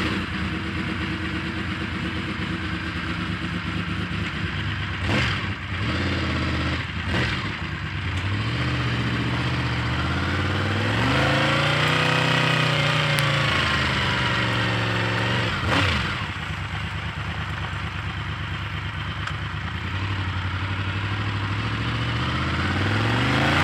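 A Honda VFR750F motorcycle with carburetor trouble is ridden around the block. The engine runs loud and close throughout, rising and falling through throttle sweeps, with one long climbing rev in the middle.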